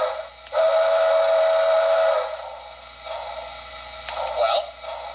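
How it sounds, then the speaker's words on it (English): A Lionel Polar Express HO train set sounds its steam whistle, a long steady tone for about two seconds, followed by softer electronic train sounds and a brief second whistle-like burst near the end. "Here's the whistle."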